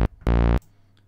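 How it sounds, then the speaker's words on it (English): A single bright, buzzy sawtooth tone from the VCV Rack software synthesizer, held for about a third of a second after a short blip, then cut off into near silence. "saw wave,"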